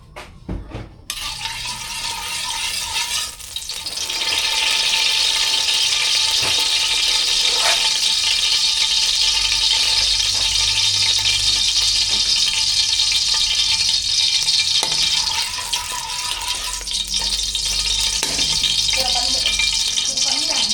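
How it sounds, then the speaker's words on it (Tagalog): Steady loud sizzling and crackling of hotdogs frying in a hot pan, continuous throughout with a few brief clatters. "Prito ko lang."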